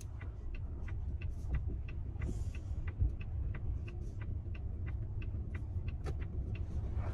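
Inside a HiPhi X SUV on the road, a continuous low rumble of tyres and engine runs throughout, with a quiet, even ticking of the turn indicator over it.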